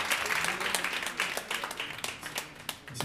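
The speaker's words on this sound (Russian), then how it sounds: "поддержкой и аплодисментами" Concert audience applauding after a performance, a dense steady patter of many hands clapping at moderate distance, with a few sharper individual claps standing out and no talking over it.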